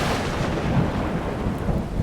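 Steady thunderstorm of rain hiss and low rolling thunder rumble, dense and constant at moderate loudness, with no voices.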